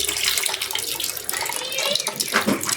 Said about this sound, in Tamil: நம்ம புளி ஊற்றிட்டு இருக்காருங்க.